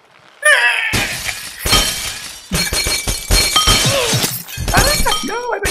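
Glass shatters repeatedly in the Happy Wheels video game, sharp crashes and tinkling debris bursting loudly, interleaved with excited talking.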